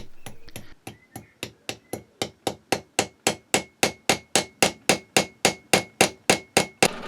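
Silver steel locking pins are hammered home into a Rob Roy vertical steam engine crank, with a steady run of about twenty-five sharp metallic blows, close and evenly spaced, growing louder as the strikes continue.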